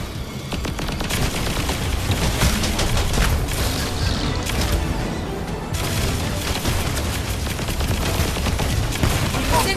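Sustained heavy gunfire and explosions in an Iron Man game battle at a turret, with rapid machine-gun bursts and booms filling the scene loudly and continuously.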